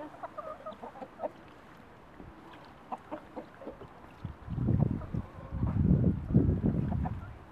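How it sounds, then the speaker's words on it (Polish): Soft scattered clucks from guinea fowl and chickens early on, then a louder cluster of busy clucking and squawks from several birds close by in the second half. "No i perleczki kury ganiają."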